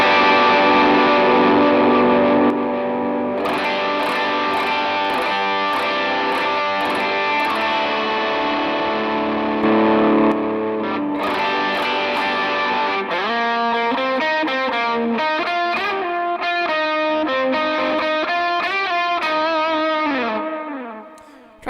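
Electric guitar played through an effects patch with gain, sustained distorted chords ringing with chorus and reverb, then a run of picked single notes and melodic lines, loud and steady throughout with no talking.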